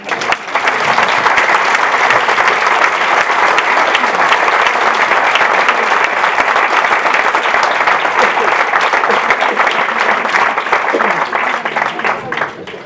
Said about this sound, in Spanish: Dadme un aplauso para animarme.